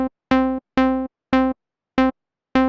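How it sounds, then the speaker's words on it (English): Short plucked synth notes from a Serum patch in Logic for a melodic house track, six bright staccato hits in a steady rhythm with quick decays and clean silence between them. "It's a short pluck sound."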